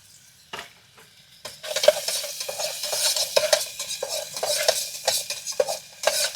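Chopped onion hits hot oil at a jungle night campsite, bursting into a loud, continuous sizzle with rapid clinking and scraping of a spoon against the pan, after a quiet opening.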